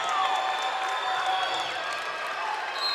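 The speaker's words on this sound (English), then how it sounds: "Crowd on their feet." A volleyball crowd in a college gym cheers with a steady, sustained roar of voices and whistles, moderately loud and constant throughout.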